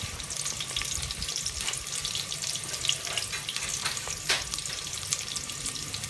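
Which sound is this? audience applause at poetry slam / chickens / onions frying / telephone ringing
onions frying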